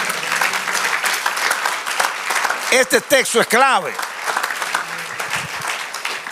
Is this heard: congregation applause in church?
yes